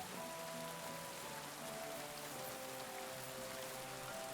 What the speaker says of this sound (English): we all just came to sit in the rain, huh?